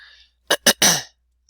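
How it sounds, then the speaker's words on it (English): Three quick, gruff throat-clearing bursts come one after another, close and fairly loud, followed by a short trailing rasp, alone against silence. "I had to clear my throat."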